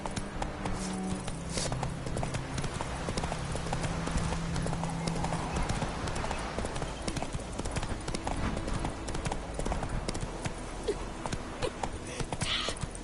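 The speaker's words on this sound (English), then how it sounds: "Slow now. Whoa. Come on, Roach." Roach, a horse in The Witcher 3, gallops with steady, rapid clip-clop hoofbeats that run the whole length, loud and close, over ambient game sound.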